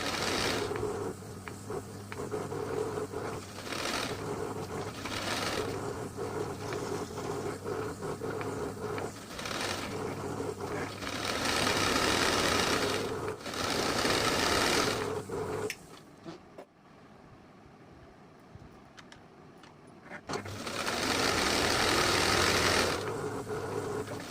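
A sewing machine stitches the sleeve of a ladies' kurti, running with a steady, close, rapid mechanical whir in long runs. It stops for a few seconds and then starts again.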